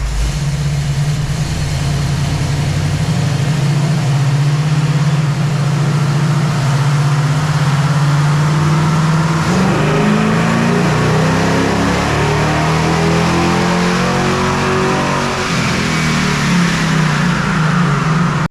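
A Mopar 440 big-block V8 from a 1970 Dodge Challenger R/T runs on a dyno, a loud, steady low rumble that builds into a rising, revving pull in the second half, with no talk over it.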